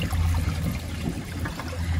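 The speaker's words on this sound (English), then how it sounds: "So I like the flush on this little low bowl line." A 2002 Vitromex Marathon low-bowl toilet flushing, a steady close rush and gurgle of water swirling through the bowl, loud and continuous without a break.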